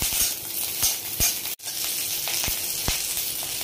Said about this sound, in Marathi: मिरची देखील छान भाजली आहे